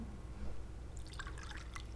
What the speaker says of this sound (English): so we're pouring all that in equal parts